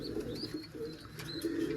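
Soft, throaty cooing of pigeons close by, a few overlapping low calls against a faint background hum.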